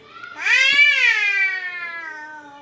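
A young child imitates a cat's meow in one drawn-out, wavering, high-pitched call, close and fairly loud, with no other talk.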